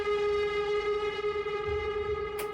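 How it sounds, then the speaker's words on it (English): Distorted atmospheric lead synth in a music mix, a steady held buzzing tone with rich layered harmonics over a faint low rumble, ending with a brief bright burst. "you're also going to be hearing a lot of distorted lead atmospheric sounds, and they sound like this in the mix"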